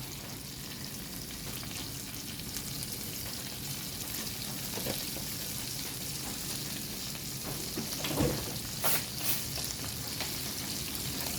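Spare ribs frying in a pan, sizzling steadily while they are stirred and turned, with a few louder scraping clatters near the end and no talk.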